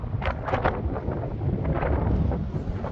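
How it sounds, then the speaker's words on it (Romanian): Strong wind roars steadily against the microphone, a continuous buffeting rumble with gusty rises, and no voices. "Bate un vânt de Doamne ferește."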